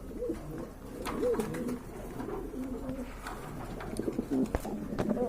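Pigeons coo in overlapping, rolling calls throughout a pigeon farm, moderately near and continuous, with scattered clicks and shuffling noises in the background.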